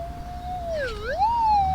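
A clean electronic tone from a GPX 6000 metal detector over a 7.6 gram gold nugget ten inches deep sweeps down then back up in a smooth low-high warble, sharp and steady over faint background hiss.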